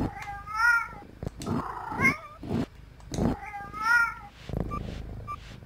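Several clear video-game cat meows repeat one after another, close and fairly loud, with small gaps between them and no talking.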